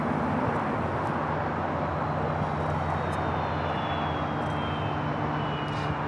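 A Boeing 747-8 jet airliner at LAX, Nippon Cargo, turning off the runway, produces a steady, loud, broadband jet engine roar with a faint high whine sliding downward, continuous throughout.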